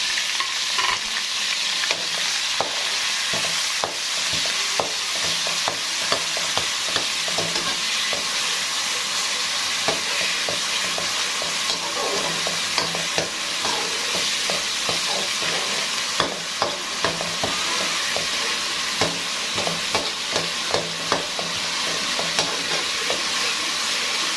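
Steady, busy sizzling of garlic, ginger and green chilli paste frying in a hot pan, with occasional stirring scrapes and pops throughout, no voices.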